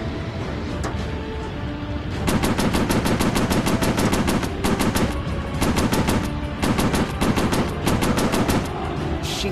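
Aircraft machine guns fire in War Planes WW II, long rapid bursts of loud, close, evenly spaced shots over a steady engine drone, with short gaps between the volleys.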